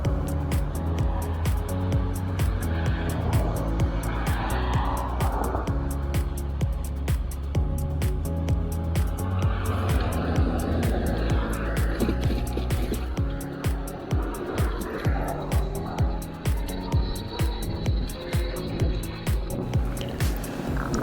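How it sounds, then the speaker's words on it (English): Cars passing by on US Route 60, heard steadily and fairly loud from the roadside as a continuous traffic rumble with tire noise, swelling and fading as vehicles go by. "waiting for the traffic signal to turn red and for the last cars to pass by me"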